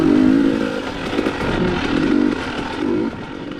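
A 2021 KTM 300 TPI two-stroke dirt bike engine snarls loudly and close, holding a high buzzing rev with brief dips and surges during a dual sport ride.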